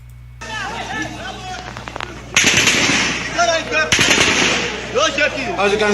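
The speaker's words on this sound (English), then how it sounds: "Here where the gunshot is coming from." Rapid bursts of gunfire from a played recording of the Enugu shooting, loud crackling volleys with shouting and crowd noise, while someone talks over it.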